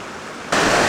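The middle falls on Lake Superior's western shore rushes as a broad, steady roar of water that jumps abruptly louder halfway through, as if heard from right beside it.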